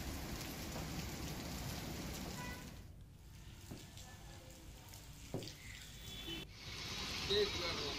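Light rain has been falling since early morning over the Kamrej area of Gujarat. It makes a steady broadband hiss with two abrupt cuts, and faint scattered drops stand out in the quieter middle stretch.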